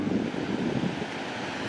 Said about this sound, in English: this is constantly discharging probably the minimum amount of water just to keep the ecosystem healthy below the dam